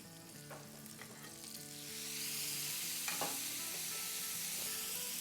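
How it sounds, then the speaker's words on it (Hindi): Seekh kebabs sizzle and crackle on a hot griddle, the hiss swelling louder partway through, with a few light metallic clinks over the steady frying. "आवाज़ें भी आ रही है बन जाने की, सिजलिंग टाइप की"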